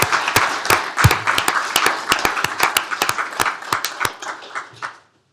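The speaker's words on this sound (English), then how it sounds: "So let's give a big round of applause to George." A small group in a county commissioners court meeting applauds an employee with 30 years of service, giving distinct, sharp individual claps that taper off after about five seconds before falling silent.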